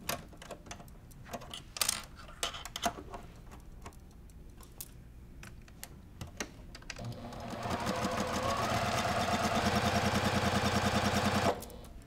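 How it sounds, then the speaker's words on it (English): A sewing machine with a quarter inch foot stitches a seam on a Halloween pumpkin quilt block, starting after several seconds of clicks and fabric handling, then running as a steady, fast, close rattling hum for about four seconds before stopping. "I'm going to put these two fabrics right sides together and we're going to sew down this seam"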